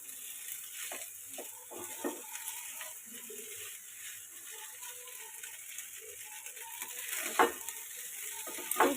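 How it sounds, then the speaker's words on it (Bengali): Boiled pasta frying in a pan with sauce, a soft steady sizzle under occasional scrapes and knocks of stirring, growing busier toward the end. "এবার কিছুক্ষণ আমি ভাজা ভাজা করে নেব।"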